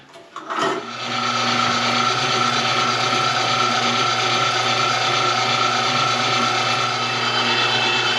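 A meat grinder running a second grind of venison: a short clatter, then a steady, loud mechanical motor drone with a constant whine, close up and with no speech.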